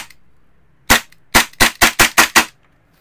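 An airsoft 1911 pistol with a metal slide and metal lower frame fires seven sharp, loud, close shots: one alone, then a quick rhythmic string of six in the quiet.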